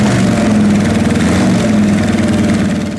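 A mid-engine Corvette prototype runs its 4.8-liter aluminum-block V8, mounted behind the cockpit. It gives a loud, close, steady low burble with a throbbing pulse throughout.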